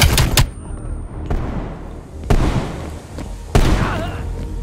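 A flashbang grenade thrown in Call of Duty: Black Ops Cold War: sharp, loud blasts and gunfire-like cracks, several abrupt bursts spaced about a second apart, each trailing off into ringing noise.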